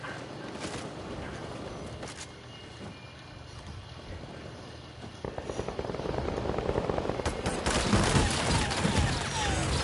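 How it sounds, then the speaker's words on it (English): Rapid continuous minigun fire in a shooter video game, a dense roaring burst that swells louder toward the end, with broadband noise throughout and no talking. "This man got a minigun."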